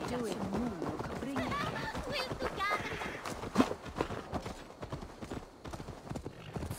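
Rhythmic clip-clop of galloping horse hooves runs steadily throughout, with people talking over it, in the video game Assassin's Creed Valhalla.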